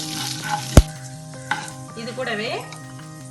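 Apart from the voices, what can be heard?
tempering spices spluttering and frying in oil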